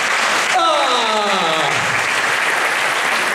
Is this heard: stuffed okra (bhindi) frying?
no